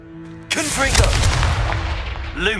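A Confringo fire spell blasts in Hogwarts Legacy, a loud sudden burst that erupts after a tonal hum and rumbles on with swirling, crackling energy, then swells again at the end.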